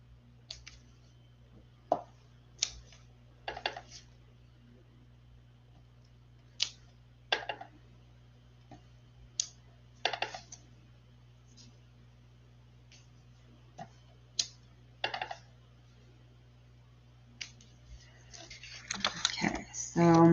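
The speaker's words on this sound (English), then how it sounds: "we're going to just randomly stamp on the back of my envelope also" Rubber stamp pressed at random over the back of an envelope during card making: a series of sharp, separate taps spaced irregularly, close and fairly quiet, with a busier flurry of handling noise at the end and no talking.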